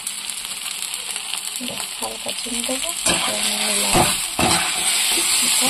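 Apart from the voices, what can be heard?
food being fried dry and stirred in a pan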